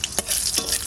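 Dried red chilies crackle and spit as they fry in hot mustard oil, a short loud burst of sizzling with quick stirring scrapes.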